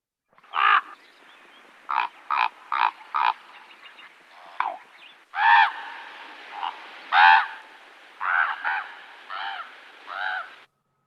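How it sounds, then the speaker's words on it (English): A series of deep, croaking raven calls, some short and clipped, others longer and hoarse, repeated in irregular bursts and heard clearly without talking. "And with ravens, much deeper."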